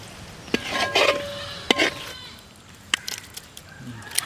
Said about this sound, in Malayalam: തേങ്ങ വറുത്തരച്ചത് ഇതിൽ ഒഴിച്ചു കൊടുക്കണം.